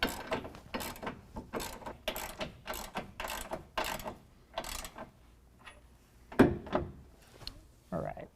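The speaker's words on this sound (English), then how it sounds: "we're going to take the 21mm socket and start tightening it down" A ratchet fitted with a 21mm socket clicks rapidly in repeated bursts while tightening bracket bolts on a Backwoods Brute HD rear bumper being installed on a 2017 Ford F-250, close and crisp, with a brief clank near the end.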